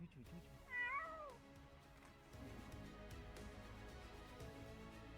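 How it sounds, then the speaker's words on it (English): A single high, wavering meow from a kitten that fell into the sea, fairly faint, followed by a low rumbling background of water and wind. "saving a kitten that fell into the sea"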